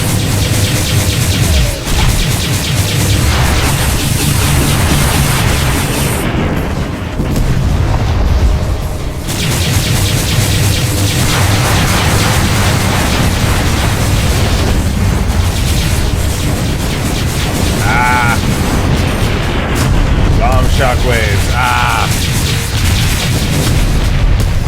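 Spaceship weapons fire in the Freespace 2 space combat game, a dense, continuous barrage of booming blasts and explosions that stays loud throughout, with sharp bursts layered over a heavy rumble.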